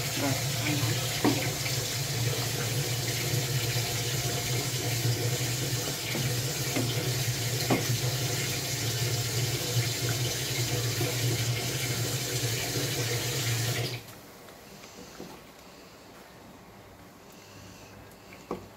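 Water runs steadily from a kitchen tap while a stuffed pointed gourd dish is cooked, a loud continuous splashing stream that cuts off abruptly near the end and leaves quiet room tone.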